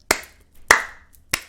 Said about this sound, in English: I'm clapping it up, Riot.